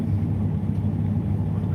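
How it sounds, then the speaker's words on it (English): A truck engine idles with a steady low rumble and throb, close and continuous throughout, with no voices over it. "love the sound of that truck"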